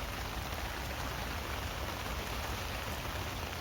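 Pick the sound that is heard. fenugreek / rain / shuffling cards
rain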